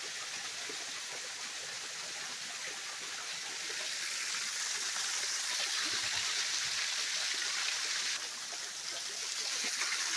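Snowmelt water runs steadily in a small stream during a winter thaw, a soft continuous rushing and trickling that stays faint and even, with no voices.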